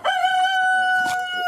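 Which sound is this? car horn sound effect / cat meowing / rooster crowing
rooster crowing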